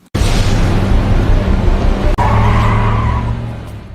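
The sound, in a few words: car speeding away with tires skidding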